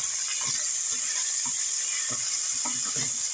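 Onion frying in oil gives a steady, close sizzling hiss throughout, with faint soft knocks from stirring underneath and no talk.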